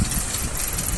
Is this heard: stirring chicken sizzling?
no